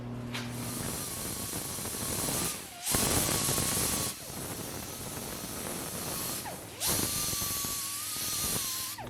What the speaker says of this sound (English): So let me grind this up, and then we can fold those flaps.